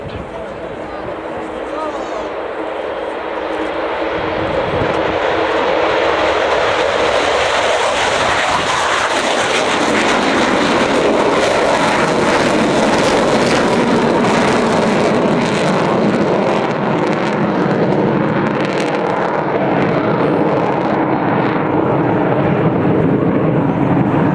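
An Avro Vulcan bomber's jet engines roar on the takeoff run at an air show, a loud broadband rumble that swells within the first few seconds and then holds steady and powerful, with wind buffeting the microphone and faint crowd voices underneath.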